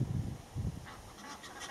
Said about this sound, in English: A pair of Egyptian geese just flown in there.